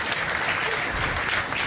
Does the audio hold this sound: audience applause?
yes